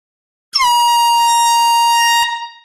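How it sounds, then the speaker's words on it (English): A handheld air horn lets out one loud, piercing blast that lasts under two seconds, sounding alone in a quiet room and cutting off abruptly. "we've got to bring out the air horn again for the Roy Gallagher."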